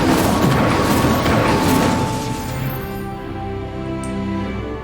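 An Incendio fire spell in Hogwarts Legacy goes off as a dense, crackling burst that roars loudly for about two seconds, then thins into a lingering ringing tail with faint game ambience.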